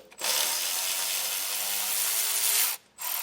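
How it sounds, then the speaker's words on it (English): A 12mm socket on a power tool spins loose a bolt holding the emergency brake cable to a vehicle frame, a steady whirring buzz lasting a few seconds before a brief stop and restart. "I'm going to use a 12mm socket."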